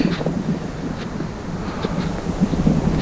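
Strong wind buffets the microphone in a constant low roar with gusty rumbles, no voices, on a snowy mountain trail near Relay Peak at about 10,000 feet.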